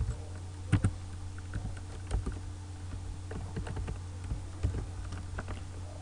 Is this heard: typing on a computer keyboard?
yes